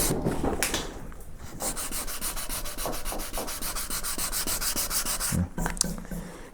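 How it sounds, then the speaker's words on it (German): Steady back-and-forth sandpaper sanding on the handle of a yew longbow, a continuous rough rasping scrape close up with rhythmic strokes throughout. "Ein bisschen Schleifpapier."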